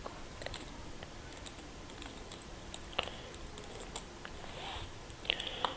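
Typing on a computer keyboard while building a test in MyTestX, with soft scattered key clicks in quick irregular bursts, close and quiet, with no talking.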